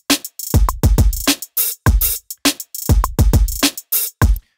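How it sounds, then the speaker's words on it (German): Trap beat programmed in Logic Pro with note-repeat hi-hat rolls, heard as punchy, booming drum hits and bright percussive bursts in a syncopated pattern, loud with no talking. "Hi-Hat-Rolls für Trap-Beats und ähnliches."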